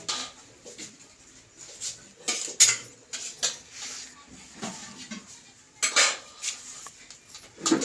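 Plates and cutlery clattering and clinking in irregular bursts, several sharp knocks and scrapes spread across the moment, close by with quiet gaps between.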